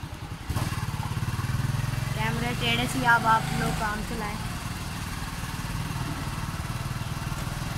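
A motorcycle engine on a ride starts about half a second in and holds a steady, close, low throbbing drone throughout, with a person talking over it for a few seconds.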